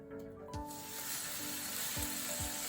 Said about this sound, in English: now we are going to cook the steaks